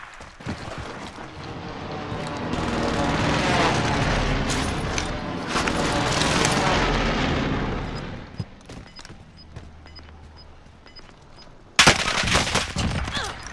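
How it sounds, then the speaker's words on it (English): Enemy precision airstrike in Call of Duty Warzone, a long rolling barrage of blasts and rumbling explosions building and fading over several seconds, followed by a quieter stretch and a sudden sharp loud burst near the end. "Enemy precision airstrike."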